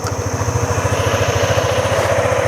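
Honda ADV150 scooter engine idling close by, a steady rapid putter with an even pulsing throb throughout.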